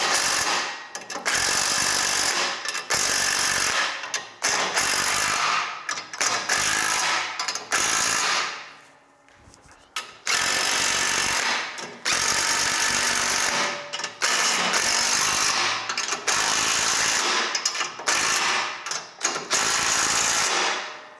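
Bolts on a CMP zero-turn mower dethatcher attachment being tightened with a 9/16 tool give close, loud mechanical whirring in repeated bursts separated by brief pauses.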